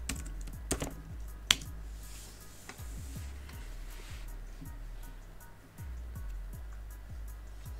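Keys clack on a Mac computer keyboard as a password is typed, a quiet run of soft, irregular taps close by against a low background hum.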